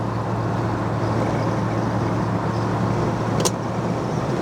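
A steady engine drone from a 1968 Pontiac GTO convertible with a 400 engine and Turbo 400 automatic, low even hum and road rumble while driving, continuous throughout with a brief high click near the end.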